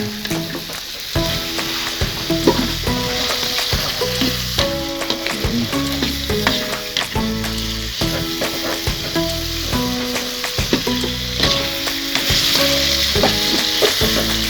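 Tempeh and bean sprouts stir-fried in a hot pan, with a constant loud sizzle under repeated scraping, tossing strokes from a spatula at an uneven rhythm.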